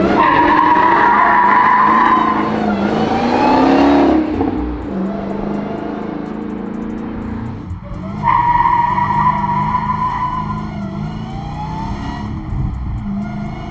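An 850 hp manual widebody Dodge Hellcat Charger spins its tires in first gear, the engine roaring near and loud with long squealing tire screeches, a brief lull, then another surge of revving and squeal.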